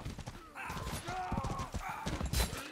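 Horse hooves clop and a horse whinnies during a Mordhau video game fight, with rhythmic hoofbeats, a brief tonal neigh and thuds mixed in busy game noise.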